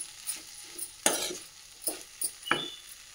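Spoon stirring semiya biryani in a pan, several scraping strokes against the metal with faint sizzling, close and fairly quiet.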